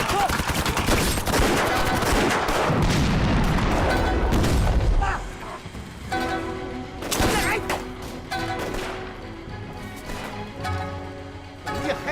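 Gunfire and artillery in a war drama battle scene: about five seconds of dense, loud, overlapping bursts and booms. The firing then thins to scattered sharp shots over a quieter, tonal background.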